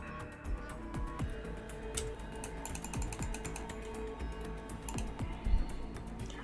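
Keys on a small computer keyboard clatter quickly during a Metin2 game session, irregular and moderately close, with a faint steady background hum.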